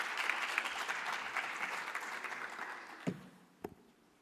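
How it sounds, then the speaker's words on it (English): Conference attendees applaud a speaker at a national space conference, a dense burst of clapping that thins out and fades after about three seconds, leaving a couple of stray claps. "So let's give him a round of applause again."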